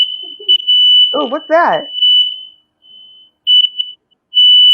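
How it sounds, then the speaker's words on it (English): A steady high-pitched smoke alarm tone sounds continuously, with brief pauses, while a person speaks briefly over it. "The fire alarm."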